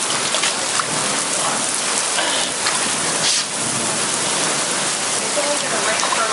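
Steady rain pours down in a dense, even hiss of drops hitting surfaces, loud and constant throughout, with no voices over it.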